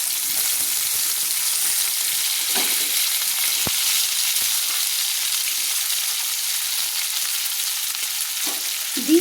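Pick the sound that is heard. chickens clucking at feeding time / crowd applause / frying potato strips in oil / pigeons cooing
frying potato strips in oil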